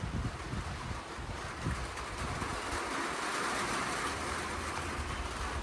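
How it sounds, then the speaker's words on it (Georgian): Wind and rain outdoors at a country dacha on a cold April day make a steady broad rushing roar with gusty swells throughout, heard alone without voices. "ქარი და ისევ წვიმს. გესმით ალბათ."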